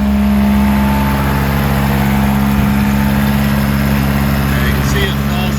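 A 1984 Toyota Tercel 4WD engine with a sticking throttle cable holds a steady, loud high idle throughout, a constant close engine drone with no pauses.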